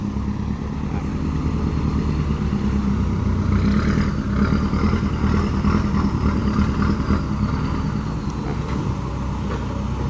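A Mitsubishi Fuso Canter light truck's diesel engine idles steadily and loudly nearby, a continuous low rumble with no speech.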